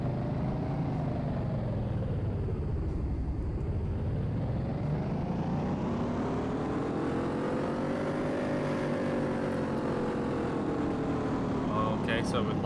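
Car engine running on a dyno in the video game Car Mechanic Simulator 2018, a loud steady roar whose pitch falls, rises, dips and climbs again as revs sweep, continuous throughout, with talking over it.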